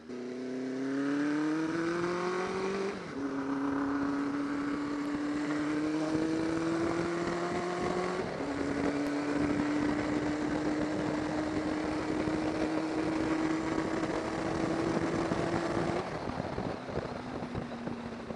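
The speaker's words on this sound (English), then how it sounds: "Loud pipes might very well indeed save lives, but they also make terrible audio for YouTube videos." A chopper motorcycle with loud exhaust pipes drones steadily while being ridden, the engine note rising through a couple of gear changes over sustained wind rush, with no talking.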